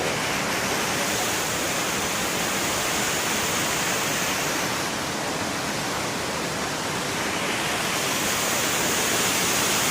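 Steady roar of Kuang Si waterfall near Luang Prabang, Laos, heard from its middle tier, a dense continuous rush of falling water that stays loud and even throughout with no voices.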